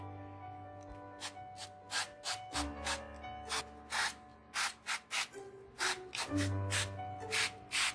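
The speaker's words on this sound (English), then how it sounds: "I am using the oil spray to coat it." Short, rhythmic hissing bursts of an oil spray nozzle coating eggplants, repeated many times over a soft background hum, close to the microphone.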